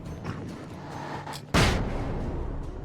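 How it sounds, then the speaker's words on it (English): A flashbang goes off in the Alan Wake video game, one loud sudden blast that breaks a quiet stretch and leaves a ringing, rumbling tail behind it. "More flashbangs for you."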